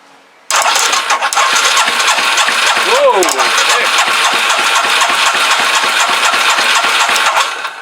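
A long-unstarted Suzuki 230 motorcycle engine catching abruptly and then running at a steady, loud, rough idle, with a brief throttle blip rising and falling partway through.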